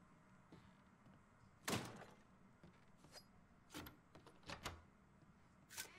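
A door in Mafia 3 opening with a sharp knock or thunk, then several quieter clicks and bumps of the latch and panel, close and fairly faint against a low background hum.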